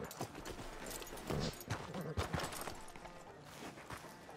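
Horse hooves clip-clop at a steady walking pace in Red Dead Redemption 2, fairly close, with soft ambient noise and no talking.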